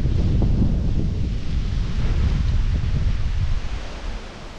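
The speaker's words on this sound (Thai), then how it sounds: "ลมแรงนะแต่ว่าไม่มีคลื่นเพราะว่าบังภูเขาพอดี" Strong wind buffets the microphone on a long sheltered beach at Khao Phlai Dam in Thailand, a loud steady roar of rumbling gusts that eases slightly near the end.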